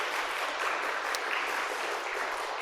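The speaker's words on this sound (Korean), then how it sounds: "한번 환영의 박수 한번 같이 하시겠습니다." A church congregation in Jeju gives a steady round of welcome applause, dense and even clapping filling the room for its whole length with no voices over it.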